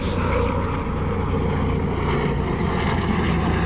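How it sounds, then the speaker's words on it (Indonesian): Helicopter passing overhead outdoors, a steady loud broadband rotor and engine roar that holds constant throughout with no talking. "Sebentar, ada suara helikopter ya."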